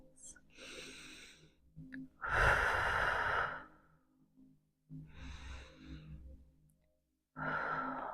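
Slow, audible breaths, long exhales and inhales with pauses between them, taken close to the microphone while holding a yoga twist; no talk.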